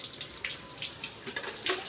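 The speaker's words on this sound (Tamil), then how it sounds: "அது தண்ணி எடுத்து ஊற்று." Water poured from a bucket to water plants splashes and trickles steadily for a moment, a light close pouring sound with no voices.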